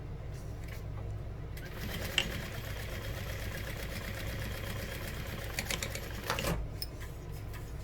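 A sewing machine runs steadily in a quiet room while it top-stitches a quarter-inch seam on a fabric bag, a faint, even mechanical whir that stops near the end without any talk.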